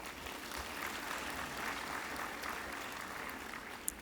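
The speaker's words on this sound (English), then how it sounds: "Let's give him another big round of applause." Steady applause from an audience at a spring university graduation ceremony, a continuous wash of clapping heard from a distance, moderately faint and sustained for the whole stretch without speech over it.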